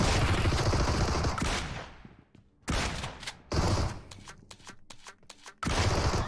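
Shotgun fire in a fast-paced video game, heard as several loud, dense gunfire bursts separated by brief quieter gaps, each blast close and booming.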